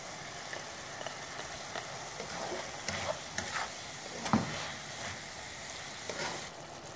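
Vegetables softened in a pan with a stock cube and chili sauce are stir-fried for a macaroni dish, giving a steady low sizzle with repeated scrapes and stirring clatters. A sharper knock comes near the middle.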